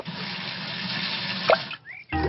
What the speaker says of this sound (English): Daddy Pig has some warm, soapy water to wash the car.